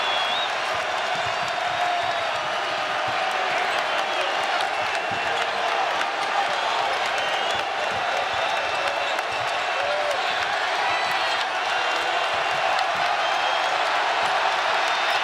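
A large basketball arena crowd during a Tennessee vs Louisville game roars with steady cheering and applause throughout, under constant commentator talk, with faint ball bounces and shoe squeaks.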